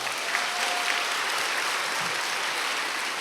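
Church congregation applauding their pastor at an autumn special dawn prayer service, a dense, even wash of clapping from a large crowd, continuous and fairly loud.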